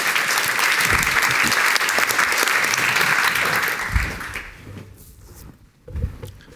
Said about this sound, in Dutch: uw applaus is voor hem